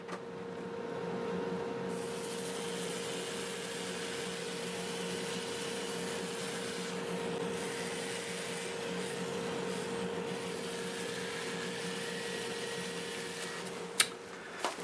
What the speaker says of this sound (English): I'm going to get this sanded up and get a finish on it.